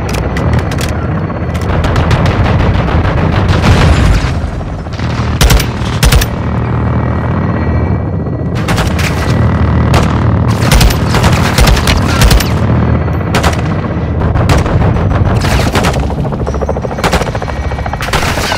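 Heavy gunfire from a Call of Duty: Modern Warfare II campaign mission, loud and nearly continuous, with rapid machine-gun bursts, sharp individual shots and deep booms layered over a dense battlefield din.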